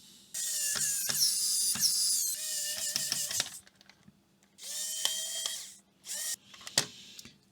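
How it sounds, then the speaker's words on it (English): A small screwdriver drives screws back into a soldering iron thermometer, giving close, quiet bursts of ratcheting clicks in several short runs with brief pauses. "Put the screws back in."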